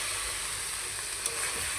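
Potato and flat bean pieces sautéing in a pan for a puti fish curry, a steady close sizzle and frying hiss with faint stirring scrapes, no talk.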